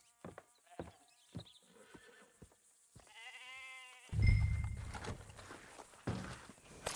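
A horse whinnies with a rising harmonic neigh in the Red Dead Redemption 2 video game, followed by a loud burst of hoof clops and snorting nearby, with scattered clicks beforehand and no talking.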